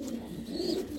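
A pet dove cooing softly indoors while being shown to guests, a low, faint, rolling coo in one continuous phrase with no talk over it.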